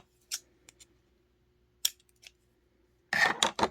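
Scissors cutting a piece off for a soft journal cover: a few sparse, quiet snips and rustles, then a louder close run of crisp cutting strokes at the end.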